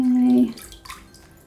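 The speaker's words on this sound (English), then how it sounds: "lift the mold out of the water, holding it level, and let the water drain" Water runs off a papermaking mold lifted level out of a vat, a short loud pour in the first half second that thins into scattered drips.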